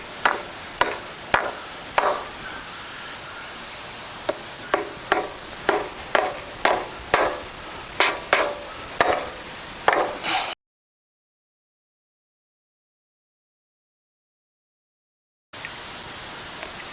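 Repeated sharp hammer strikes drive staples into a wooden trellis post for a two-wire trellis, about a dozen evenly spaced blows over ten seconds, then silence and one more faint tap.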